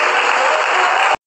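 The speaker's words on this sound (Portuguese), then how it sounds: "Aplausos, por favor." A burst of loud, dense applause with steady clapping that fills the moment, then cuts off abruptly after about a second.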